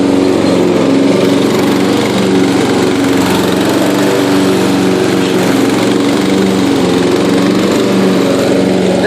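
A Yard King riding lawn mower cuts wet, rain-soaked grass, its engine a loud, steady drone close by that bogs slightly under the load, with no voices.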